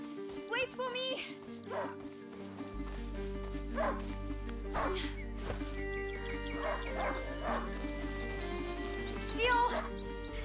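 Hunting dog barking in A Plague Tale: Innocence, a medieval setting: scattered yips and barks at moderate distance over a steady low music drone, with people talking throughout.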